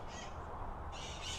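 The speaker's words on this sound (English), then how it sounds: "those birds are annoying" Harsh squawking birds call outdoors in two bursts, one at the start and a louder one near the end, over a steady background of ambient noise.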